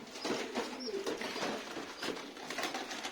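Pigeons cooing in a coop, soft murmuring coos and rustling heard close, with faint chirps and some background noise throughout.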